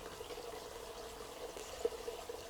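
A small outdoor stream flows steadily in the background, a faint, continuous trickle of running water with no talking.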